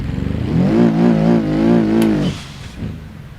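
A drifting car's engine revs hard and steady, rising and wavering in pitch for about two seconds before cutting off, with a brief squeal and quieter engine noise trailing after; no voices.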